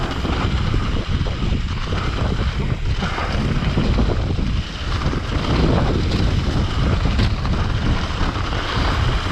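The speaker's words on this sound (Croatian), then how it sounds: "Vjetar u očima." Strong wind buffets the microphone on an enduro ride down Sljeme, a loud continuous roaring rush with gusty surges and no talking.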